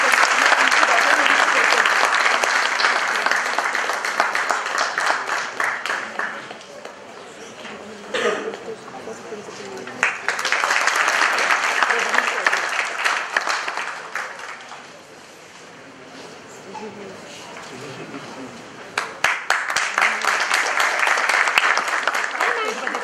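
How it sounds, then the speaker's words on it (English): Audience applause at the inauguration ceremony of the Ahmedabad International Literature Festival, sustained clapping from a large crowd that swells, fades into a lull, then rises again in repeated waves. "Please give our guests a huge round of applause."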